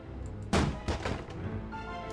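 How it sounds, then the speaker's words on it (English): In a video game, a door bursts off its hinges and crashes to the ground, heard as two heavy thuds about half a second apart, the first sharper, over a low background. "The door flies off its hinges and crashes to the ground."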